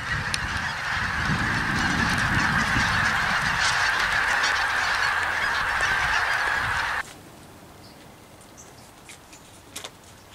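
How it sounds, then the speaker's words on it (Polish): A dense chorus of many birds honking and calling at once, loud and continuous, then cutting off abruptly to quiet background. "chyba w życiu nie widziałem tylu ptaków naraz"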